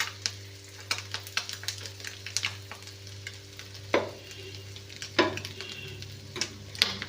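Tomato and boiled eggs fry in a pan with a steady soft sizzle, broken by repeated sharp scrapes and taps of a spatula stirring and turning the food, close and fairly quiet.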